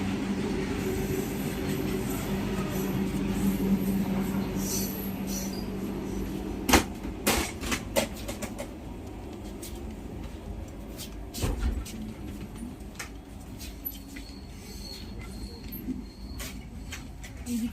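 Steady rumble inside a moving long-distance passenger train carriage from Sealdah to Jammu, with rhythmic rattling, occasional sharp clanks and wheel squeals, continuous and close throughout.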